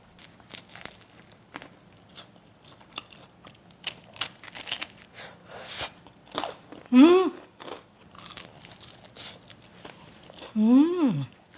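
Loud, close crunchy bites into Korean fried chicken followed by chewing, with brief talking in between.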